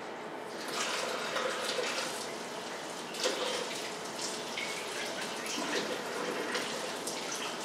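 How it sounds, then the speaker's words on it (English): Water poured steadily onto a potted orchid in a growing medium with perlite, a soft continuous splashing and trickling close by with no talking. "So let me just give it a little water."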